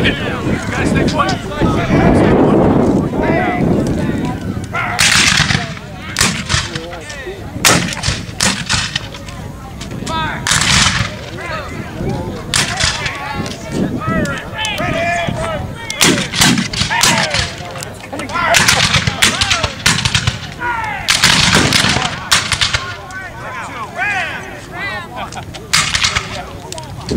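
Musket volleys and booming artillery at a Civil War living history reenactment at Fort Adams in Newport, Rhode Island: loud, repeated cracking shots in irregular bursts, with wind buffeting and shouted commands between.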